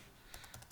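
Keys clatter on a computer keyboard in Microsoft Word 2010. A short run of five or so crisp, quick clicks comes after a moment of faint room noise, up close and soft.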